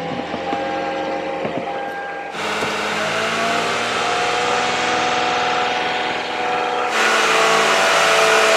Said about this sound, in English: So let me go start the car, rev it up to 2500